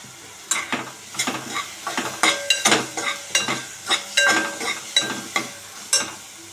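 Finely chopped green chillies being sautéed in a pan, loud rhythmic scraping and clinking of a spoon stirring against metal over a soft sizzle, repeated strokes close up.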